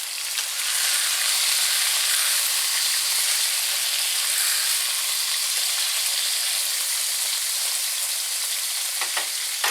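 Ground beef shaped into steaks fries on a stovetop turned down to medium, giving a loud, steady broadband sizzle that holds throughout with a few brief crackles near the end; no talking.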